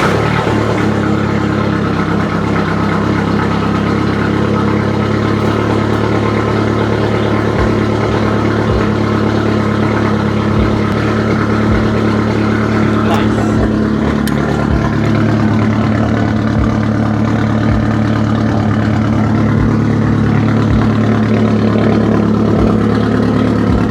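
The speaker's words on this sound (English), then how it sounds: "You guys can hear the cold start though" Nissan SR20 car engine idling after a cold start, a loud, steady, close rumble with a constant drone throughout and faint low thumps in the exhaust note.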